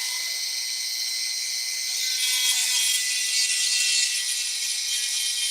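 A flat sander grinding a bone guitar pick, a steady high-pitched whine and hiss that grows harsher and louder midway as the pick is pressed on, close up with no voices.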